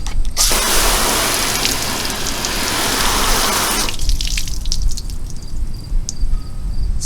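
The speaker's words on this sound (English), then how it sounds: "Makes the water kind of sheet right off." Water rushes in a broad hissing spray over a waxed car, loud and continuous for about four seconds before cutting off to quieter dripping and trickling.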